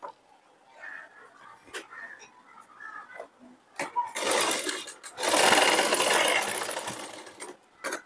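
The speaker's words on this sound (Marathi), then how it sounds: "चला आता आपण हे टक्स मारून घेऊया." A sewing machine stitches tucks into a size 38 blouse in bursts, its fast motor whir starting and stopping with quiet handling sounds and a voice speaking between runs.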